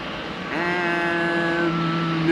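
An Embraer 175 jet airliner at Amsterdam Schiphol gives a steady engine whine with a rising tonal hum that settles into a sustained, moderately loud drone over airport background noise.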